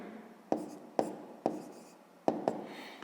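A pen writes numbers on paper during a fifth-grade math exercise, with five sharp taps and short scratching strokes at irregular intervals, close and quiet in a still room.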